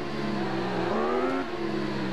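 Motorcycle engine in the racing video game Ride, a supersport bike revving up and down with rising and falling pitch, steady and close with no talk.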